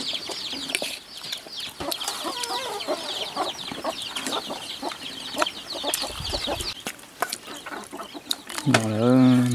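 Chickens clucking nearby in a run of repeated short calls, with scattered knocks and rustles in between and a louder, drawn-out squawk at the end.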